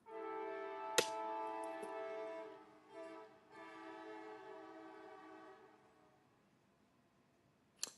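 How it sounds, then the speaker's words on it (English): A freight train horn sounds faintly in the background, a long sustained blast lasting several seconds, then a second blast after a short break before it fades. Two sharp clicks are heard close by, one near the start and one at the end. "You all hear the train in the background?"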